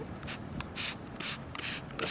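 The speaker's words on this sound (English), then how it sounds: "So we'll get a nice light mist on the window." A hand spray bottle misting water onto a car window in the cold, several short hissing spritzes in an uneven rhythm, close and fairly crisp, with quiet pauses between squeezes.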